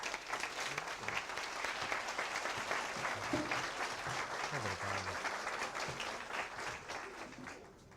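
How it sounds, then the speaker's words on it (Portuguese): An audience applauding to welcome a lecturer, dense steady clapping from a sizeable crowd in a hall that tapers off toward the end, with a voice briefly heard under it. "vamos receber com um aplauso caloroso o professor Jorge Forbes"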